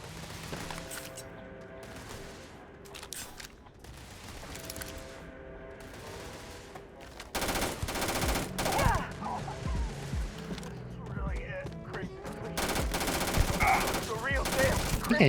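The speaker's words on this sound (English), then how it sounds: "I think I shot the miners." Rapid automatic gunfire in the video game Starfield, dense repeated loud bursts of shots that intensify in the second half, with weapon clatter and game sounds beneath a talking voice.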